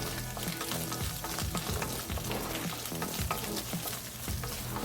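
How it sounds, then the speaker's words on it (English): Spam frying in smoking hot bacon fat for Spam kimchi fried rice, a loud, steady, dense sizzle with crackling pops that carries on unbroken, close up and with no talk. "we're going to add our Spam to the smoking hot bacon fat to fry our Spam"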